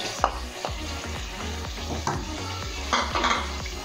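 Yogurt goes into a hot, sizzling pot of Pakistani chicken biryani and is stirred in, with steady frying hiss, repeated scraping spoon strokes and occasional clinks of utensil against the pot.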